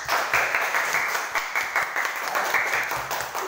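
A classroom of students claps together, a brisk continuous patter of many hands with slight rhythmic swells, fairly close and even from start to finish, no voices heard.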